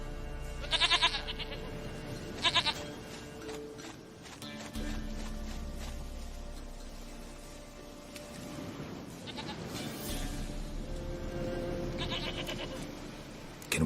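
Short, wavering goat bleats from The Witcher 3 recur over a steady ambient game backdrop, a couple of sharp nasal calls early and another cluster toward the end.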